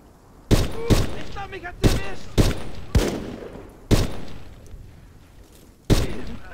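Gunfire and explosions ring out in the WWII strategy game Gates of Hell: Ostfront, with about eight sharp loud shots or blasts at uneven intervals, each leaving a rumbling tail, and some game voice chatter mixed in early on.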